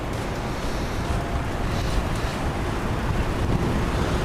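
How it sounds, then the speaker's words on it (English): Wind buffets a fur-covered microphone outdoors on a street in Japan, a constant low rumbling roar that fills the whole stretch with no clear talking. "Getting a bit windy. Got the old fur windscreen on the mic."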